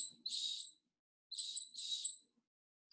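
A small toy bird whistle imitates a bird call with three bright, trilling chirps, one short burst followed by a pause and then two quick ones close together, clear and alone.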